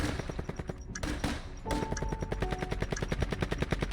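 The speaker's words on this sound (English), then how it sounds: "it sounds like those shots are coming from the roof" Rapid gunshots from a rooftop in Call of Duty Warzone, steady automatic bursts of sharp, loud shots repeating quickly with a short gap near the start and no talk.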